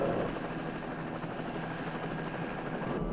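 A state police helicopter flying over Chelsea, Massachusetts, in an old 16mm film, its rotor throbbing steadily and fairly loud throughout, with no voices.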